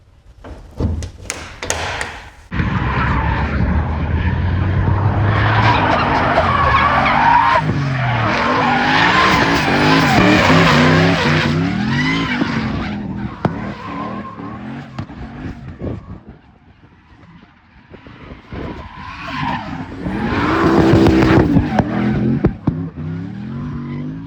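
Race car on a test run, skidding with loud tire squeals and a roaring engine that rises and falls over a long stretch, then a quieter lull before the squealing and revving return, with a few sharp thumps near the start.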